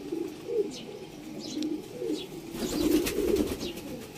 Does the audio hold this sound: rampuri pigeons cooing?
yes